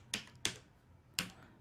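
Three crisp keystrokes on a computer keyboard while a captcha code is entered into an online form, the first two close together and the third after a pause, in a quiet room.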